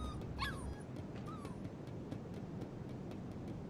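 A dog whimpers in the Life Is Strange 2 video game, giving a couple of thin, rising whines over a steady, noisy outdoor ambience, with no talk.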